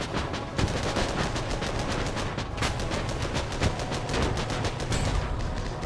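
Rapid machine-gun bursts fired from a tank's MG in the trench-warfare game Armored Battle Crew, a dense, continuous rattle of overlapping shots at steady loudness with no talking.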